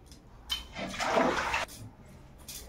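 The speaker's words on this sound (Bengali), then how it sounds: "এবার কড়াটা মাজবো" A wok is scrubbed with water in a home kitchen, a brief splashing rush lasting about a second, with softer scraping before and after.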